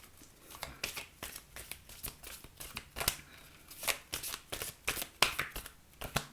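A deck of oracle cards being shuffled by hand, producing quiet, close, repeated riffling and flicking bursts in an uneven rhythm.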